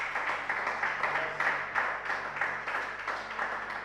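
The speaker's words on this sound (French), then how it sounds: "Est-ce qu'on peut applaudir la parole du Seigneur?" A church congregation applauds during a sermon, a steady dense wash of clapping held at an even level for several seconds, heard from a little distance with no voices.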